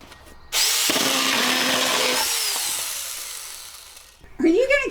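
A Huing mini chainsaw cuts through PVC pipe with a close, loud, steady whine lasting about three and a half seconds, then winds down and stops before a voice speaks.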